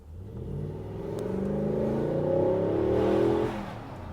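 A vehicle engine fitted with an intake snorkel revs upward, its rumbling tone climbing and growing louder over a few seconds before easing off near the end.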